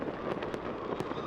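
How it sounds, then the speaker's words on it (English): New Year's fireworks go off over downtown St. Louis, a dense rumbling wash with a few sharp cracks popping out, fairly faint and heard in a brief snatch. "here's a look at some of the fireworks we saw earlier tonight in downtown St. Louis"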